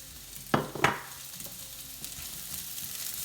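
Onions tip into olive oil in a hot pan with two sharp clattering hits, then a soft, steady sizzle fills the rest of the moment, close and fairly quiet.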